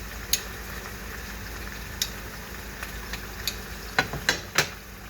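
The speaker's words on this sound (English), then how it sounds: "Move them onions around some more. Let them onions dance around a little bit." Onions frying in a pan for fish fried rice give a soft, steady sizzle, with scattered sharp clicks and scrapes of stirring that cluster toward the end, close but quiet.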